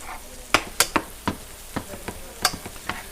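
About six tablespoons of butter hit a hot pan with bacon fat for a cream sauce, giving quiet, scattered crackles and sharp pops with soft stirring, no talking.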